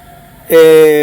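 An ambulance siren cuts in abruptly as a loud, sustained tonal wail with strong harmonics, rising out of a quiet background and holding for about half a second.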